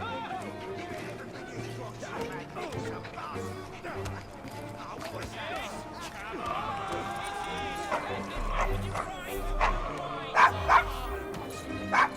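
A dog barks in the game Assassin's Creed Syndicate, yips and whimpers under talk and background music, with a few louder barks toward the end.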